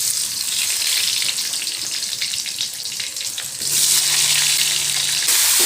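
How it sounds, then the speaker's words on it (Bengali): Mango pieces dropped one by one into hot mustard oil with spices, a loud, continuous close sizzle that surges louder partway through as more pieces go in, with a faint hum beneath. "এবার এক এক করে আমগুলো তেলের মধ্যে দিয়ে দেবো"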